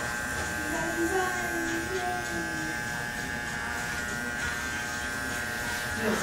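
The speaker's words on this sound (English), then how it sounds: "I'm going to flip the clipper upside down, just stretch the skin a tad bit" Electric hair clippers buzz steadily and close while trimming a sharp outline along a hairline, a continuous drone with slight shifts in pitch as the blade moves.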